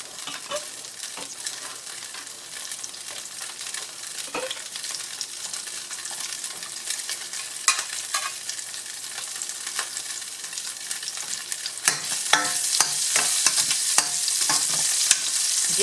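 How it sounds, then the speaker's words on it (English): Garlic sizzles in hot oil in a pot, a continuous crackling fry broken by frequent scraping stirs that grow louder and busier toward the end, close up with no voices. "Okay, let's get this out from this pot. Now that it's browned."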